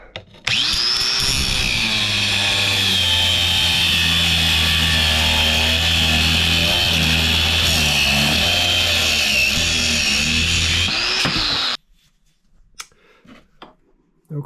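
A power tool whines loudly and continuously for about eleven seconds while cutting out a handle piece for a rolling suitcase repair, then stops abruptly, leaving faint handling noises.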